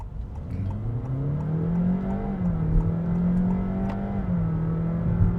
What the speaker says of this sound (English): Now you'll hear the ratio changes in the transmission.